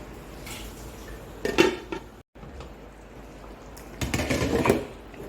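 Fish cooks in a pan with ground cumin, coriander and black pepper. Two short bursts of metal utensil clatter and scraping break a low, steady background, close and moderately loud.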